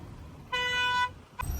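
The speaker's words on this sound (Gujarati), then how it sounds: "આ ભાઈ આ હોરન વગાડો ને ભાઈ હોરન હોર્ન મારો" One sustained car horn honk lasting about half a second, bright and steady, followed by a brief second toot, heard over low outdoor background rumble.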